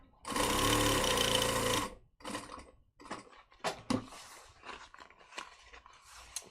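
Sewing machine stitching while making a sewn garment from a pattern, a steady loud whir lasting under two seconds, then a scatter of softer clicks and mechanical knocks as it stops.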